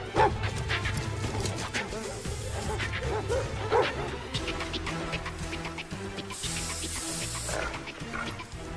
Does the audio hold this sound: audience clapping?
no